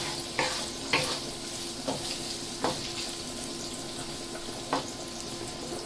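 Beef mince sizzles steadily in a frying pan as it browns and crisps, with a few sharp scrapes and taps from a utensil stirring it, close and continuous, with no talk.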